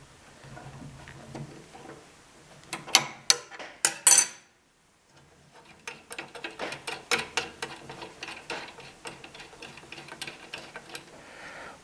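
Wrench loosening the arbor nut on a table saw, a run of sharp metallic clicks and clanks close up, a brief pause, then a longer series of ratchety ticks and taps.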